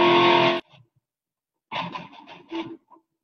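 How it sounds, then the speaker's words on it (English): An electric guitar with heavy distortion plays a loud sustained chord that cuts off, then a few short distorted chord stabs follow after a pause. "I'm gonna increase the distortion"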